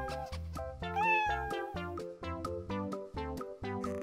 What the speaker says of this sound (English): What does it mean when your cat stands on its hind legs and mews loudly?